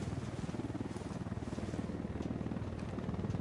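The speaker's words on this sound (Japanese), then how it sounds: "ユニダットのヘリだ。" Helicopter of the Unidad faction in Ghost Recon Wildlands, a steady rotor thrum and engine drone holding throughout at an even, moderately close level with no talk over it.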